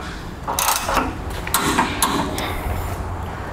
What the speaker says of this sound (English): Now we'll torque these bolts.